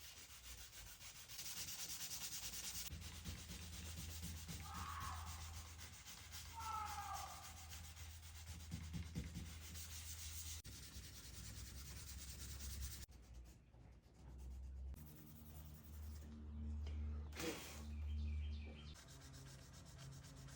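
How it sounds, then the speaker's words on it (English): A truck panel is hand-sanded with 320 grit sandpaper in steady, close, scratchy back-and-forth strokes, with faint bird chirps behind. The rubbing gives way to quieter, scattered handling sounds later on. "Forgot we need to sand this thing a little bit."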